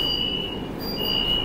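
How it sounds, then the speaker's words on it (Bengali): A Kolkata Purple Line metro train rolls into Taratala station with a continuous loud rumble and a thin, high metallic whine running over it. "আমাদের মেট্রো এখন চলে এলো তার ফার্স্ট হল্ট তারাতলাতে"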